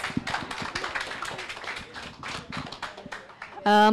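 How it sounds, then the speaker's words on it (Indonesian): A crowd at a political party event claps in a scattered, lively burst of applause, with voices mixed in, ending in a sudden electronic tone. "Kepada Sis Grace, mari kita berikan tepuk tangan yang meriah"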